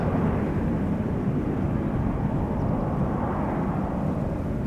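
A jet airliner taking off from Schiphol's Polderbaan runway, heard as a loud, steady broadband roar with deep low rumble and no pauses or voices.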